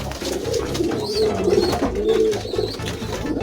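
A domestic pigeon coos in low, rolling, repeated calls while it is handled for eye-drop vaccination, close and continuous with no talk.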